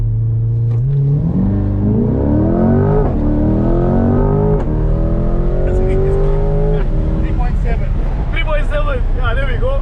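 Imported Corvette C8 sports car launching hard from a standstill in a 0-100 km/h run, its engine note climbing steeply through several rising gear pulls with brief dips at each shift, loud and close throughout with voices over the top.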